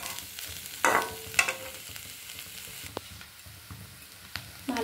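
A spatula stirs curry with potatoes in a pan over a low gas flame, giving a few scattered scrapes and knocks against the metal over a faint, steady sizzle, with no talking.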